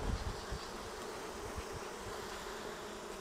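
Honey bees buzzing steadily around an open beehive during a brood inspection, a close, continuous low hum with no voices.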